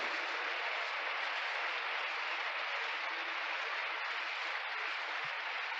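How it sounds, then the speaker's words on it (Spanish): A church congregation applauds in steady, dense clapping that fills the room evenly and continues without a break from start to finish. "Un aplauso, hermano."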